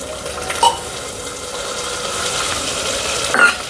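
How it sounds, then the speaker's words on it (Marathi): Potatoes fry in a pan with turmeric for Maharashtrian masale bhat, giving a steady close sizzle broken by two brief utensil clinks, with no talking. "हे थोडेसे आलू छान अशी तळल्या गेले पाहिजे म्हणून मग मी याच्यातच टाकत आहे"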